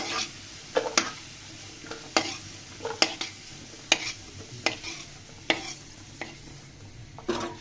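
Half-boiled new potatoes fry in a pan under a low sizzle, while a spatula knocks and scrapes at a loose, fairly regular beat roughly every second, close by with no speech.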